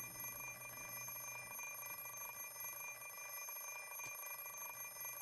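An alarm clock rings in the Fate/stay night visual novel, a steady high electronic tone sustained alone for several seconds without pause.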